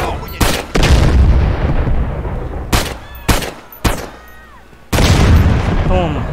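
Loud grenade explosions go off in the GTA video game, several heavy booms in close succession with rumbling tails between them.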